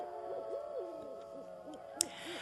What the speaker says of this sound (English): an owl hoot can be heard for miles around